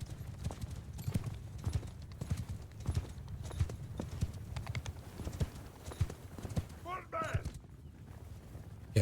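Horse hooves clip-clop steadily in a Mount and Blade 2 Bannerlord battle, a rapid, even rhythm running through the whole stretch under low rumbling game noise, with a brief whinny-like rise near the end.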